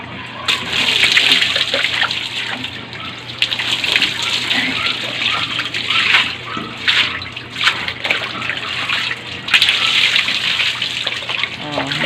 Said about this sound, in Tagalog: Magbanlaw ka na sa hose.